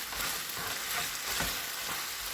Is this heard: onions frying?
yes